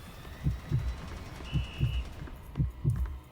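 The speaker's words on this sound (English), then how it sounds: "there's a heartbeat going on" A steady heartbeat marks the player's stamina in a horror video game during a speedrun. It thumps in low double beats at a regular pace over a hissy background, and a brief tone sounds midway.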